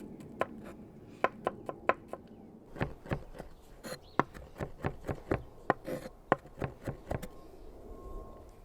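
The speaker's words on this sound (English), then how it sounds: "you're gonna mince some garlic using the knife that you have just made" Garlic minced with a knife, about twenty quick chopping taps on a board, close and crisp, in an uneven rhythm that speeds up toward the middle.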